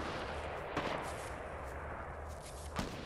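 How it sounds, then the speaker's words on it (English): An auto sniper rifle in the Fortnite battle royale game fires two distant, muffled shots, widely spaced over a low, steady background rumble. "The auto sniper ain't bad, man."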